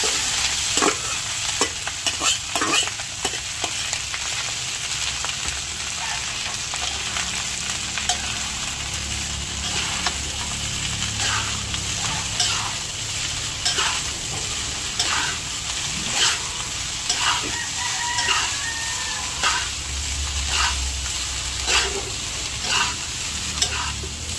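Rice tipped into a hot frying pan and stirred, with a steady sizzle and repeated scraping clicks of a spatula against the pan; food reheating for breakfast after a fiesta, close and continuous, with no talking.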